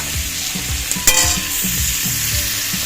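Tomato and spices sizzling and frying in a pan for potato curry, a steady close hiss with stirring scrapes and a brief sharp clatter near the middle, no voices.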